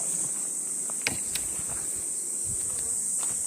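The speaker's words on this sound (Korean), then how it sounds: "말벌이 한 마리 날라왔네" A hornet buzzing as it flies near a beekeeper at the hives, a faint, wavering insect drone over a steady high-pitched hum, with a couple of sharp light clicks.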